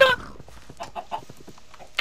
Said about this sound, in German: Da liegt noch so ein Huhn